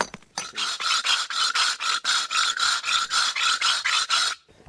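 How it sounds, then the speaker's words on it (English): A rasp scrapes back and forth over soft stone in quick, even strokes, about a dozen rough rasping passes in a steady rhythm, close and clear with no talk. "after that it's the rasp"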